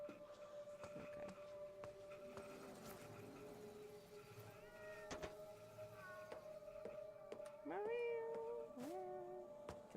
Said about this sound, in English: We can pet him. Look at him. Such poofy kitties.